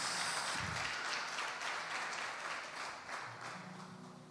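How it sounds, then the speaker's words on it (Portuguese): A church congregation claps in praise, a dense wash of applause that stays steady and fairly loud before tapering slightly, with no voices over it. "Dê mais um aplauso ao Senhor."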